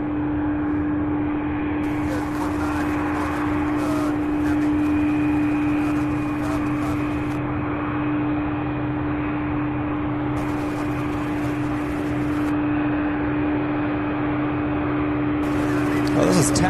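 A UPS cargo jet taxis at Louisville SDF airport during the holiday rush, producing a loud continuous engine drone with a steady tonal whine and broadband roar that swells slightly near the end.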